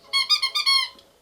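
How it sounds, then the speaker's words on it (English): A red Frisco football-shaped dog toy squeaks in four quick, bright, high-pitched bursts, close and loud, then falls quiet. "this is the Frisco squeaking football dog toy in red"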